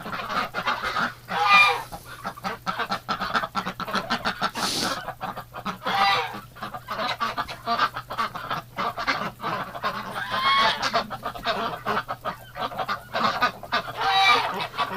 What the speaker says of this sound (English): Goose Lee certainly looks like he's got some girlfriends.